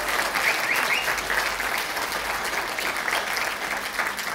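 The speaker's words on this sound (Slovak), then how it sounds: "poprosím jeden obrovský potlesk" A large audience at a folk dance ensemble's anniversary performance gives sustained, loud applause, a thick even wash of clapping lasting the whole stretch with no voices on top.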